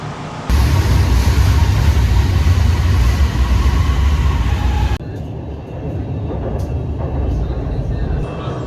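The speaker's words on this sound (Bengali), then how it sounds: "এখন আমরা অপেক্ষা করব যতক্ষণ পর্যন্ত রেল আসতে সময় লাগে" A metro rail train in Malaysia roars loudly and steadily at first, then the noise drops to a quieter, continuous rolling hum with a few clicks as it carries on, with a voice heard over the sound.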